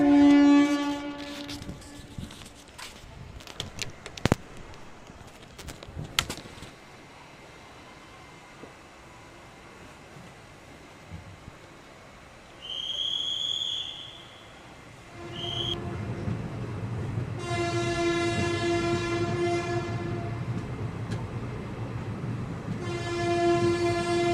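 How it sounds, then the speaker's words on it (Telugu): Clanking rail noise opens, then quiet, followed by a long blaring train horn sounding several times as the Kadiri–Devarapalli passenger train pulls away from Tirupati, loud and steady. "సో ట్రైన్ అయితే బయలుదేరడానికి అయితే సిద్ధంగా ఉంది ఇప్పుడు బయలుదేరుతుంది చూడండి"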